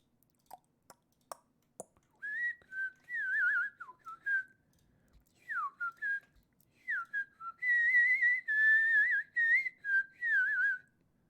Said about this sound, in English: Here's everybody's favorite whistling song.